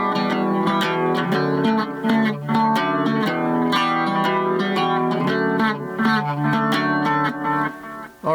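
A three-string cigar box guitar is strummed in a familiar rhythm, a brisk down-and-up pattern of ringing chords played continuously and close, slightly distorted with a touch of reverb.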